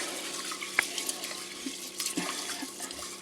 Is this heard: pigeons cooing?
no